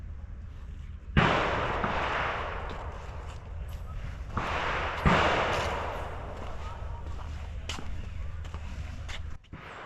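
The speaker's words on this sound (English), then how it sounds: "Ahead is the shooting area where you can try, I think, the AK-47." Two sharp, loud AK-47 shots crack at a shooting range a few seconds apart, each followed by a long decaying echo over steady outdoor background noise.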